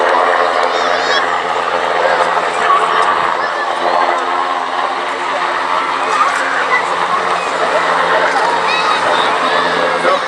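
An aircraft drones at the Cleethorpes air show, a low engine hum partly buried under loud public-address commentary and the murmur of the crowd.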